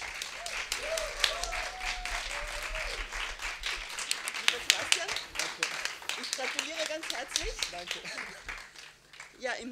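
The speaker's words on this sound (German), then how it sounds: "Einen großen Applaus, bis er auf der Bühne ist," An audience at a sign-language poetry slam applauds the evening's winner, steady clapping running throughout while a host speaks over it.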